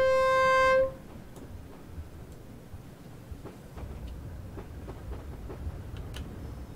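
Class 73 electro-diesel locomotive on the Brighton Main Line in a train simulator game, opening with a short, loud two-tone horn blast, then steady rolling rumble with faint periodic rail clicks.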